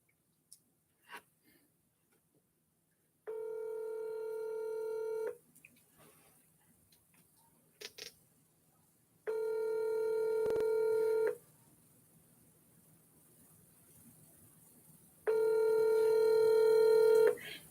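Three sustained telephone tones after a few brief clicks of dialing, each lasting about two seconds with pauses between, sounding close and clear while a call is placed to a sister, with no voices over them.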